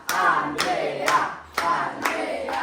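A small crowd of fans claps in bursts, with several sharp, loud rounds of applause spaced about half a second apart and scattered cheering for Andrea between them.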